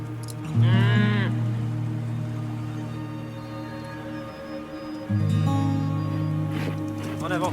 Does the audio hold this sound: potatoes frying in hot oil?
no